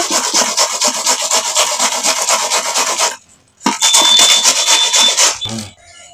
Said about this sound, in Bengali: এবারে এটা ঘষা মেশিনে ঘষে নেব